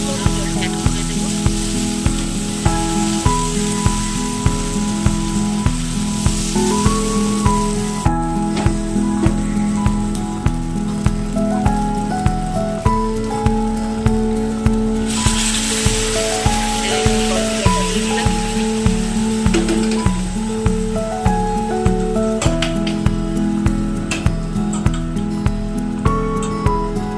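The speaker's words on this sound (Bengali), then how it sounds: "এবার এই বসানোর মধ্যে আমি গরম জলটা অ্যাড করে দেবো।" Hot water poured into a sizzling pan of chickpea and goat curry, giving a loud continuous sizzle and bubbling with a faint regular tapping rhythm throughout, no voices.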